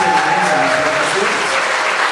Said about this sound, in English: So how about another round of applause for the great